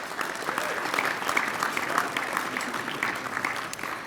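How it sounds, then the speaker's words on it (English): An audience at a tribute-to-mayors gathering in Washington DC breaks into sustained applause, a dense, even patter of many hands filling the room at moderate volume. "Let's give you all and Mickey Ibarra a round of applause."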